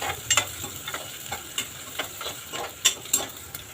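Tomatoes, with a pinch of asafoetida, go into hot oil with onion and curry leaves for misal, producing a close, moderate sizzle punctuated by sharp spoon scrapes and taps against the pan.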